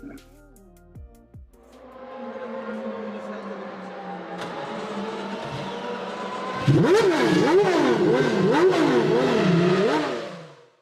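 A BMW M4 GT4 race car circles Indianapolis in a racing simulator. Its engine holds a loud, steady drone, then breaks into a run of rapid revving sweeps and gear changes near the end.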